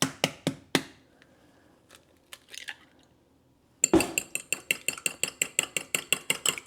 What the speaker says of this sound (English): I'm going to just crack the egg and mix that up a little bit